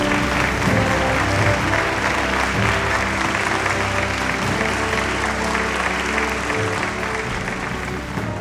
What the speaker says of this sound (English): A round of applause for Clear